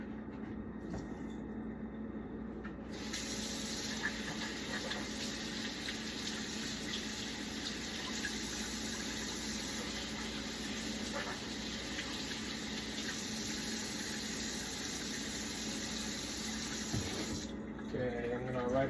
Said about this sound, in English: Let me pour all these out in the sink.